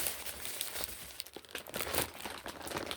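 A plastic bag crinkles and rustles as hands handle it, giving irregular, close crackling bursts that rise and fall over a few seconds, with no talking.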